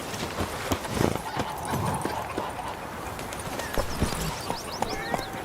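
Roach, Geralt's horse in The Witcher 3 video game, gallops with a rapid, steady clip-clop of hooves, close and continuous, with an occasional faint snort and soft background sounds.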